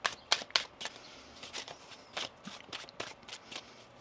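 A deck of tarot cards is shuffled in a quick run of crisp, riffling snaps, a few sharp bursts followed by softer uneven flicks, close and with no talk.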